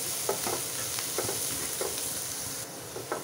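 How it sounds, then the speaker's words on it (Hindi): A softened mixture for chicken Russian kebab cutlets is stirred in a hot pan, with a steady sizzle of frying and a few soft scrapes of the spoon close by, and no talking. "इसे 1 मिनट हम और यहीं चलाते हुए पका लेंगे"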